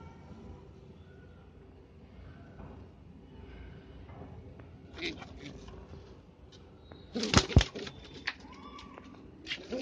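Young Madras-breed pigeons coo softly in a loft while someone talks over them, with a sharper flutter or knock of activity near the end.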